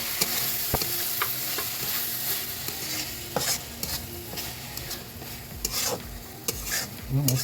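Noodle sauce is stirred into a hot, sizzling pan with a constant frying hiss, and a utensil scrapes and clinks against the metal at irregular moments, the sounds growing more frequent toward the end.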